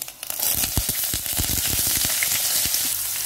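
Onion, green chilies and curry leaves dropped into hot oil for a crab gravy burst into a loud, dense sizzle with rapid crackles and pops, close up and continuous, no voices.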